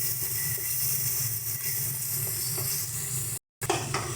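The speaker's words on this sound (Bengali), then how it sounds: "মশলাগুলোকে আমাদের ভালো মতন কষিয়ে নিতে হবে।" Spices frying in a pan over low to medium heat for Mughlai paratha, a continuous dense sizzle and hiss with faint stirring scrapes, cut briefly by a short silence near the end before the sizzle returns.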